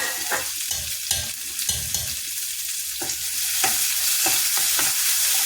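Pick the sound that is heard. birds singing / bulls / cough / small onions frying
small onions frying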